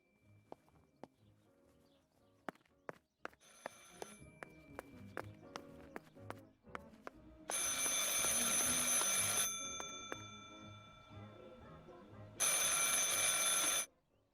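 An old-style telephone rings inside the Martha Is Dead video game, coming in two loud, metallic ringing bursts that follow a stretch of scattered clicks and soft footsteps.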